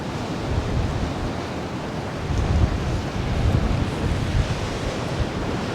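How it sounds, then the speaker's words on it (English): Ocean waves crash steadily on the coast during a solo wild camp before Storm Alex, with wind and heavy rain. The broad roar of surf and wind is loud and continuous, with slightly stronger surges midway. "Those waves crashing up there."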